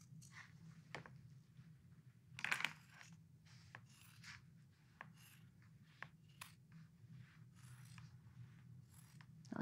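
Scissors cutting through suit jacket fabric along a sewn seam, a quiet series of soft snips and rasping fabric strokes spread across the stretch, one brief louder scrape partway through, with no talk.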